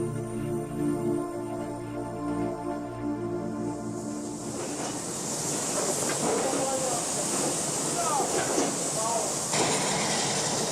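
A steam locomotive in Poland carrying commuters gives off a loud hiss and rushing noise with clanking and squeals, beginning after a spell of steady tonal hum, continuous and near.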